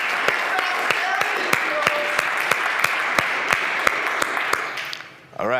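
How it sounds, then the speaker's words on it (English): A conference audience gives a round of applause, a steady wash of many hands clapping with sharp individual claps standing out, then fading away near the end. "Please stand up, guys. Round of applause."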